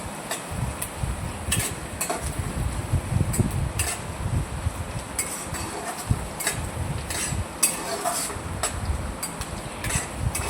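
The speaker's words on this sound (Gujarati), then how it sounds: "સરસ રીતે હલાવતા રહેવાનું છે એટલે આપણી ડુંગળી સરસ મજાની ચડી જાય તેલમાં" Chopped onions frying in oil in a pan, stirred steadily, giving a continuous low crackle with repeated sharp scrapes and taps of a utensil against the pan, close up.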